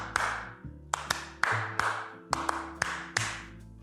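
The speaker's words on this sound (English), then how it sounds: "So, like in the Spanish clap." A person claps in a Spanish flamenco-style rhythm, seven sharp claps in an irregular pattern, close and fairly loud, over a low steady background hum.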